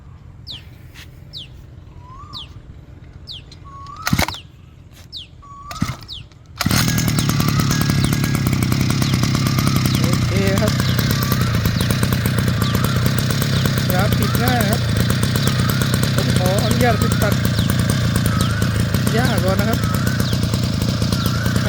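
A Mitsubishi T200 brush cutter engine sputters and fails to catch a few times, then fires up and runs loudly, revving and droning continuously with a steady buzz.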